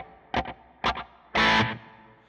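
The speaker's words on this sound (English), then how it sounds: "Now I'll kick in the graphic EQ7, which is used as a lead boost," Electric guitar through a Fender Tone Master Pro with a graphic EQ7 lead boost and a long delay plays two short distorted stabs followed by a sustained chord that rings out, loud and close.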